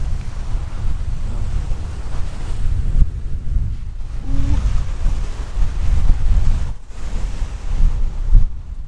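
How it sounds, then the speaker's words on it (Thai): Ocean surf rolls onto a beach in Iceland, a steady low roar of breaking waves mixed with heavy wind buffeting the microphone, continuous and fairly loud with brief lulls. "กลัวคลื่นนะครับผม"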